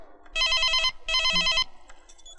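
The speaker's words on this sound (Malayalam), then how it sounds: "teacher the phone" A telephone rings in two loud, close bursts with a short gap between them, then stops and leaves near silence.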